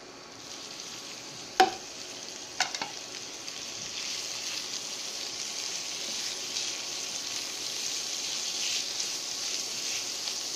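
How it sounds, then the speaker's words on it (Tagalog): Ground beef sautéing with garlic and onion in a pan for Filipino ginisang alukbati, a steady close sizzle with a few sharp utensil clicks near the start, no voices. "After natin ginisa yung garlic and onion, isunod naman natin yung ground beef natin."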